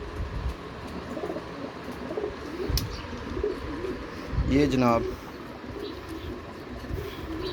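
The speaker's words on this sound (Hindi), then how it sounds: "काले मुँह वाला कबूतर" Domestic breeder pigeons coo in a rhythmic, throaty series from a nearby coop, with someone talking over them.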